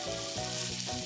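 Frozen meat rolls with komatsuna, bacon, carrot and fried tofu steam-fry in a covered frying pan, giving a brief, steady sizzle with a low bubbling hum beneath.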